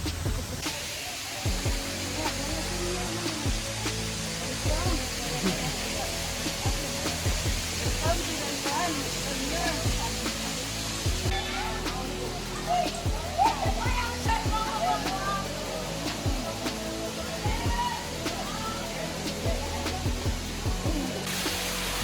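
A waterfall in the Philippines, in a heavily concreted setting, gives a steady, loud rush of broadband water noise for the whole stretch, with indistinct voices faintly mixed in.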